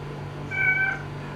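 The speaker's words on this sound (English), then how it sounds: "Say hi to the cat." A single cat's meow, an old housecat near at hand in a home kitchen around dinnertime, a brief rising-and-falling call standing out over a low steady room hum, with no talk.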